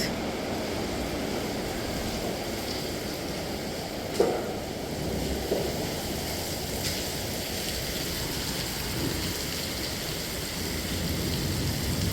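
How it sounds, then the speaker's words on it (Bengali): Heavy rain pouring outside a hospital, a dense continuous wash of falling water heard steadily throughout, with a couple of faint distant rumbles and no voices. "এই যে দেখেন কি পরিমাণে বৃষ্টি হইতেছে"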